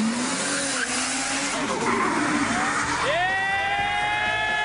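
Cars and motorbikes race past at speed during street hooning, engine whine sweeping down in pitch as one passes, then a high revving engine climbs sharply near the end, loud and close.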